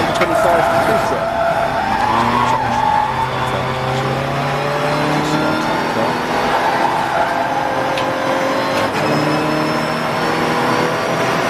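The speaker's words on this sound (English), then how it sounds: "Scott Parkin is going to try and make some more ground down the straight" Race cars including a Cupra lap Silverstone International in a 750 Motor Club enduro, engines droning and shifting pitch as they run the straight, loud and continuous under a commentator's voice.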